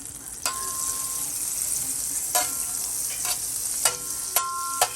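Butter sizzling in a hot pan for a tortilla, a constant soft hiss broken by several sharp clacks and scrapes of a utensil against the pan.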